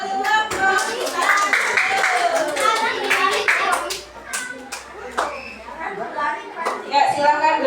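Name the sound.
clapping for the group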